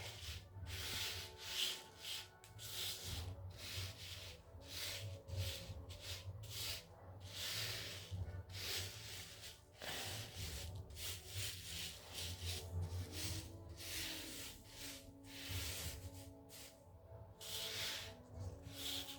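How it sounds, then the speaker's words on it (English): A brush sweeps rhinestones across a t-shirt printed with a black Bible design, giving a soft, continuous scratchy rubbing with small gritty clicks, close by and steady throughout with no talking. "Let's see if I can brush, if the stones will all fall in place on this side as it did on the other side."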